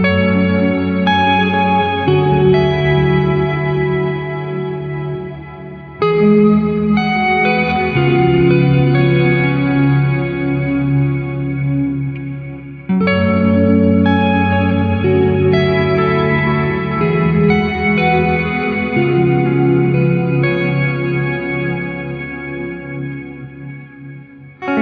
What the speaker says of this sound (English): listen as I play higher on the neck to hear the low octave really come through